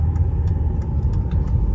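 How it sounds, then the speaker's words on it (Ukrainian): A Volvo V60 D3 2.0 diesel engine rumbles low and steady, its revs building gently under about 30% throttle, heard from close by. "Гарно набирає оберти, це я нажимаю педаль на відсотків 30."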